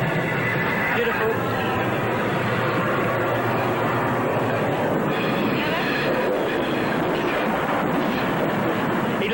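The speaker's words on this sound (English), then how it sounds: "He looked and watched the train go by like that." A train rumbles past at close range with steady clattering and a faint squeal, loud and continuous, with muffled voices underneath.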